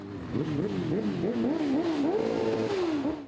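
A column of nearly a hundred motorcycles rolls slowly and loudly through the streets of Uzhhorod for the opening of the biker season in Zakarpattia, with a steady, rising and falling engine roar and revving throughout.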